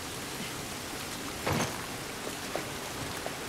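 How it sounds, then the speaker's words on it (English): Steady rain falls outdoors as an even, moderate hiss throughout, with a brief louder splash or spatter about halfway and a few faint drips, no one speaking. "This rain ain't gonna do us any good."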